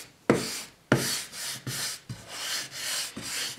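A brush spreads clear wax over chalk-painted furniture in repeated close, scratchy strokes, about half a dozen rhythmic swipes alone without talk.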